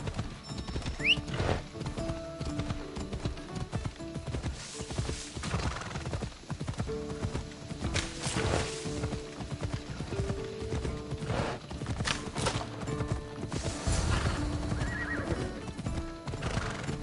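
Hooves clop in a steady rhythm while a horse neighs and whinnies repeatedly, over a busy game-like backdrop of music and effects from Assassin's Creed Odyssey.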